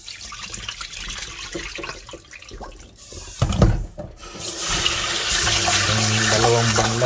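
Water sloshes and rubs as half a cup of mung beans is rinsed by hand in a bowl, with scraping and splashing that swells into steady running water from a tap in the second half.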